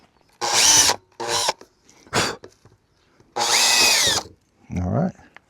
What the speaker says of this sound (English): let's go ahead and drill the little holes in there now